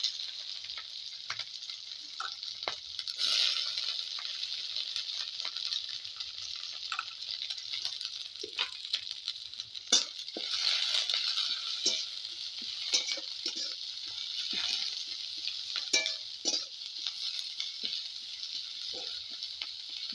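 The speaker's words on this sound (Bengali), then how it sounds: "এখন দিয়ে দেবো পেঁয়াজ আর কাঁচা লঙ্কা" Onions and green chilies fry in hot oil in a pan for a mutton curry, a steady close sizzle with soft scattered crackles and stirring clicks running the whole time, no voices over it.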